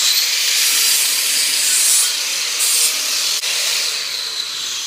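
A flap wheel grinds and scours bare metal on a 1968 Mustang floor pan, a close, continuous abrasive hiss with slight pressure shifts and a brief catch near the end.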